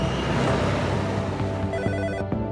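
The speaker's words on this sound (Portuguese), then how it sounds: "O telefone toca." A telephone rings, clear tonal bursts of the ringer repeating over a steady background bed, moderately loud and without speech.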